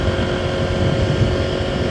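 Strong wind roaring against the microphone during a motorcycle ride in warm afternoon weather, a loud, constant rush mixed with engine drone throughout.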